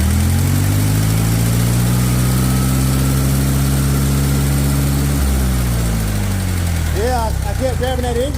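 A V4 Wisconsin industrial engine on an engine stand cranks and tries to start, giving a loud, deep, uneven rumble for about five seconds, then a voice speaks over the fading mechanical noise.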